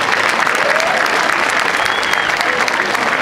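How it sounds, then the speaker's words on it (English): A Founder's Day audience claps for Bob in a loud, sustained round of applause, with dense, even clapping filling the whole stretch and a faint murmur of the crowd beneath. "Give Bob a great round of applause."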